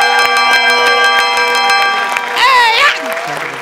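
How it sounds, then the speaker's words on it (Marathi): A stage bell rings out loud on a Marathi comedy show, its bright sustained tones layered under steady crowd noise, with a rising warbling tone swelling briefly near the end. "अरे बाबा घंटी वाजवण्यात तरी व्हेरिएशन दे रे"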